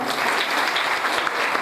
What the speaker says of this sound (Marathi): द्वारपालांसाठी एकदा जोरदार टाळ्या.